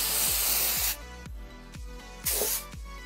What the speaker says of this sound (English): Now I'm gonna take some Mod Podge spray.